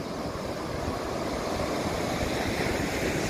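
Sea waves break steadily on Sawani beach near Al Hoceima, a continuous close roar of surf with wind noise buffeting the microphone throughout.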